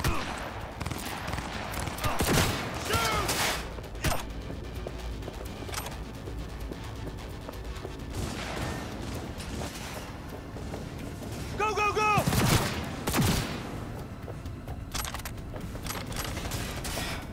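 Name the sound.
gunfire in Cyberpunk 2077 video game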